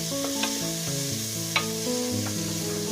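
Three chopped onions sautéing in a pan for mutton curry, a steady sizzle with a few light stirring scrapes, alone and close.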